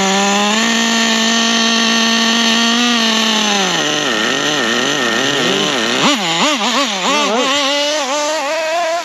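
A Hobao 10SC nitro RC truck engine runs loud and close, a sustained high buzzing drone whose pitch wavers and dips repeatedly as the throttle is worked, with no talk over it.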